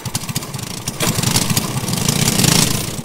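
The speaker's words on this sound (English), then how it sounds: "pierced by the scream of a two-stroke engine" A two-stroke engine on an ice kart races across a frozen lake near Aspen, Colorado, starting with rapid idling pops, then swelling into a loud, steady, rising buzz as the throttle opens.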